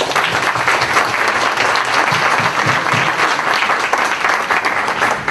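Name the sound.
audience applause welcoming speaker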